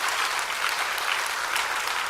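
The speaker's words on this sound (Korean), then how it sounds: "그런 훌륭한 분들을 위해서 일단 박수는 한번 쳐줍시다." A church congregation bursts into applause during a Korean sermon, a thick, continuous wash of many hands clapping at once, loud and even from start to finish.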